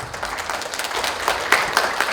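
Audience applause in a district office hall in Dunsan-dong, Daejeon, welcoming the chair of an apartment remodeling committee at a reconstruction-versus-remodeling forum: a steady wash of clapping from a seated crowd, moderately loud and continuous, with a few sharper peaks near the end.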